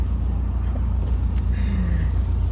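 A Honda HR-V on the road to Kulim, heard as a steady low road and engine rumble from inside the moving car, with a faint tonal whine midway and no talking.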